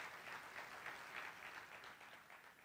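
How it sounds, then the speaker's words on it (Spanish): An audience at a book presentation gives a round of applause to welcome the speaker, a steady, faint wash of many hands clapping without a break. "Lo recibimos con un aplauso, por favor."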